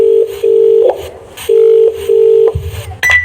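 An outgoing phone call rings out unanswered, with a steady ringback tone sounding in paired bursts and short gaps. The tone is loud and near, and a brief higher beep comes at the end.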